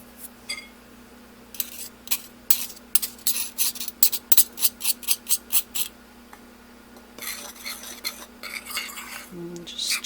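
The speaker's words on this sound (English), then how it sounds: "And just stir that up nice and well enough." Tea cake batter of sifted flour, salt and baking powder stirred in a bowl, with a spoon clicking against the sides in quick rhythmic strokes, a burst of regular taps in the middle and scattered scrapes around it, close and moderate.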